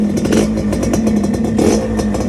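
A 2001 Suzuki Satria R motorcycle engine is revved in short, rapid bursts close up, a rattly buzzing two-stroke-like note with a steady pulsing rhythm.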